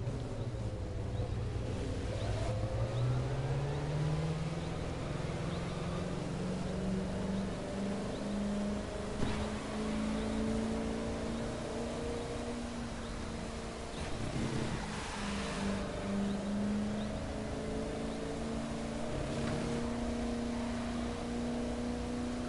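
Cars racing laps on a track in the video game The Crew 2, with steady engine drone rising and falling in pitch as they accelerate and shift, continuous and fairly loud with no talking.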